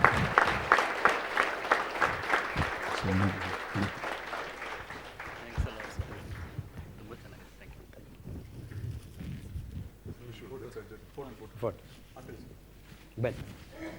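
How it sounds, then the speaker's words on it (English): Audience applause after a talk by Dr Khadar Valli, loud dense clapping for the first several seconds that thins into scattered claps and mixes with talking and crowd murmur. "Big round of applause, gentlemen."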